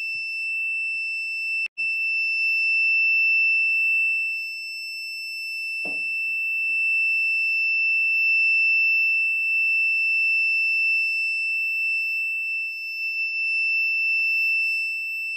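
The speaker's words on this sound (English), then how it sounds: "And now the buzzer is giving us an output" A water level alarm's loud, steady high-pitched electronic buzzer tone drones without a break, signalling a full tank, with a couple of faint clicks and small noises underneath.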